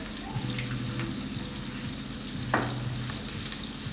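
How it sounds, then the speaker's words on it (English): Butter with a little oil sizzles steadily in a pan, a continuous close frying hiss with faint intermittent hums and one brief sharp clink, no talking. "if you want the flavor of butter without burning the butter, you add a tad bit of oil in the butter"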